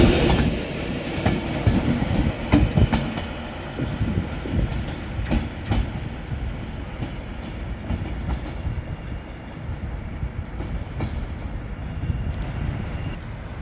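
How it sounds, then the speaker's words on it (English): A Northern train arriving at Manchester Piccadilly station rumbles and rattles steadily, with rhythmic clickety-clack of wheels over rail joints and a low mechanical drone, loud and close, no talking. "Did you spot what happened when that northern train came in?"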